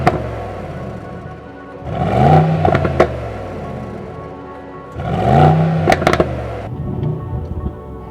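A Mercedes GLS63 AMG engine revs up twice, each surge rising and falling back to a deep idle rumble, loud and close.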